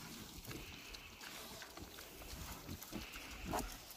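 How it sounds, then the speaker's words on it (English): Pigs chewing and snuffling at their food, with scattered crunches, grunts and shuffling over a quiet outdoor background. "I just fed the pigs, so they're eating."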